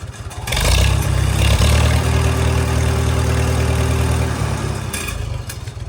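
A freshly started engine keeps running without stalling, a steady close rumble with a low idle tone that swells briefly and then settles, loud and alone with no talking.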